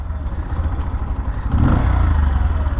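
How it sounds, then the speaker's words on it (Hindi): A Bajaj CT 125X motorcycle engine rumbles at idle, then revs up and grows louder halfway through, staying at a steady, throaty drone. "ये तो बहुत ही लाउड बाइक है, इसका साउंड क्वाइट अमेजिंग है। अब इसको भगा के देखते हैं।"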